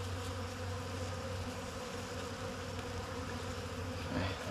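Bees buzz densely and continuously around a Flow Hive during a honey harvest, a close, steady drone with no talk over it.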